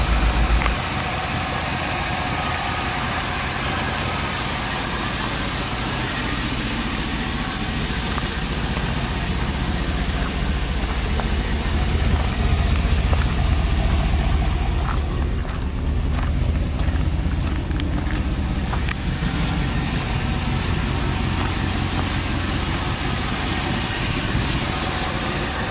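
A 1987 Chevy truck engine idles steadily for about 26 seconds, a constant low rumble recorded close by, with some wind noise and no talking.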